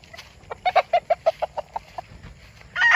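A chicken clucks in a rapid, evenly spaced series of about a dozen close, loud calls, followed by a rising burst of noise.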